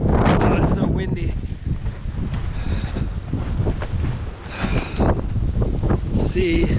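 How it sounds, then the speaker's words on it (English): Strong blizzard wind gusting around a tarp-covered boat in the snow, a loud continuous rumbling roar hitting the microphone, with faint voices mixed in. "Oh, it's so windy."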